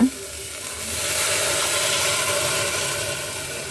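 Water splashes into a hot pan on a gas stove and sets off a loud, steady sizzle and hiss of steam that swells and holds for several seconds.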